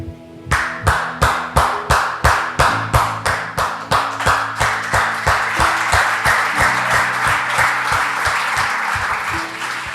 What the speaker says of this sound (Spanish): Entonces yo soy palanqueador de aplausos porque yo arranco.